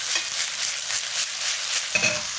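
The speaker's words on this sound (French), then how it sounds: "on va pouvoir rajouter les oignons, le jambon, les petits pois égouttés et on mélange le tout" Onions, ham and drained peas are stir-fried in a hot wok for Cantonese rice, producing a loud, continuous hiss of frying with faint tossing scrapes near the end, close up and without voices.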